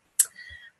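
A single sharp mouse click on an online maths whiteboard's add-page button, brief and fairly close, with a short faint tail after it and no talk.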